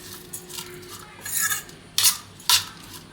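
A spoon stirs sev into a bread sandwich filling in a bowl: soft scraping and crunchy rustling rubs, followed by two sharper scrapes near the end, close and fairly quiet.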